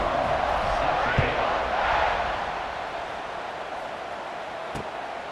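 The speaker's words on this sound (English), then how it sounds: "this crowd now ready to get behind them" Stadium crowd noise in College Football 26 during a Missouri vs. Auburn game, a broad continuous roar that swells slightly then settles lower, with a couple of sharp thumps.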